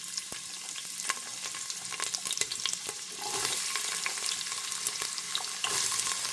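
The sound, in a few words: onions and green chilies frying in hot oil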